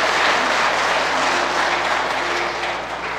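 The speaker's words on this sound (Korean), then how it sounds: "우리 하나님께 감사 영광의 박수 올려드리도록 하겠습니다." Church congregation applauding after a prayer at a Korean Presbyterian Christmas cantata in Atlanta, steady dense clapping filling the hall throughout, fading slightly at the end.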